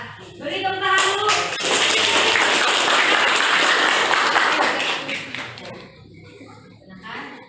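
A classroom group bursts into sustained applause, a dense wash of clapping hands lasting several seconds before tapering off, with a teacher's voice briefly heard before and after.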